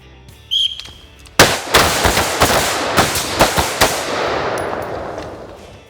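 An AR-15 rifle fires a rapid string of sharp, loud cracks outdoors at a training drill, several close shots in quick succession with ringing echoes trailing off, and no voices.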